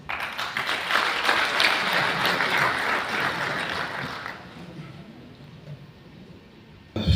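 Audience at an African reinsurance forum: a dense wash of applause for about four seconds, then fading to a quieter room tone before a sudden loud burst at the very end.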